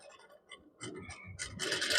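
An F4 sewing machine stitches slowly along a straight line. Soft, irregular ticks and scrapes build into a louder, continuous rasping whir near the end, with no voices.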